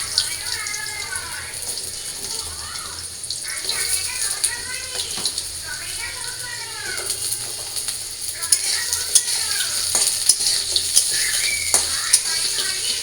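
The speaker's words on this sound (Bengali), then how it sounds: "তো ওই যে আমার তেজপাতা আর জিরা ভাজা হয়ে গেছে, এবার আমি আলু দিয়ে দিই" Potatoes hit hot oil in which bay leaf and cumin have already fried, giving a steady, bright sizzle with stirring scrapes and occasional clinks, while a person talks over the cooking.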